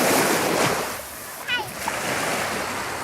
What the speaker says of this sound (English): You see the waves coming in?